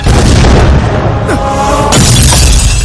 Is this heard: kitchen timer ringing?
no